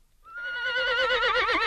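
A horse neighs in a radio fairy tale, a single loud, close whinny that rises and wavers with a trembling vibrato for over a second, heard alone without speech.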